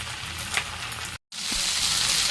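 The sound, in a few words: okra frying uncovered in a wok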